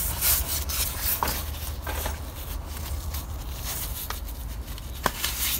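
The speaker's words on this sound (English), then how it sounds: "You just squeeze the clip and pull it away." Short rubbing and scraping sounds come from squeezing a plastic trim clip and pulling it away on a 2016-onwards Smart ForFour during a service, with a few small clicks, close and fairly quiet.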